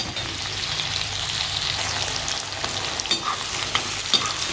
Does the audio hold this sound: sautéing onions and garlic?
yes